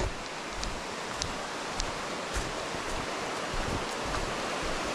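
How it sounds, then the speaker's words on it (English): A stream rushes through Clarendon Gorge in Vermont, a steady, close broadband wash of moving water that continues unbroken for the whole stretch, with only faint small splashes on top and no voices. "just near enough to the streams to hear them rushing by"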